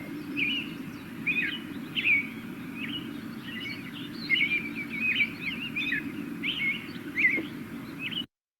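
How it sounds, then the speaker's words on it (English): An American robin sings a steady series of short, clear, warbling phrases separated by brief pauses, moderately near against a low, steady background hum, with no talk over it. "that's the American robin"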